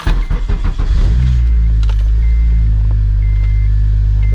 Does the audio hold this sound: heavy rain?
no